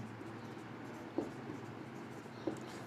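Pen or chalk scratches out a maths solution in a quiet room, with two soft taps of writing over a steady low background hum.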